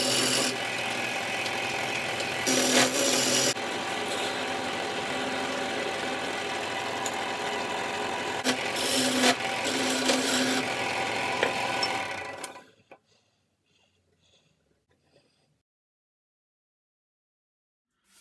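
A wooden wine bottle stopper is sanded on a lathe with 80-grit paper. The spinning lathe makes a steady, close, loud whir with a rough rubbing hiss, which cuts off abruptly into near silence.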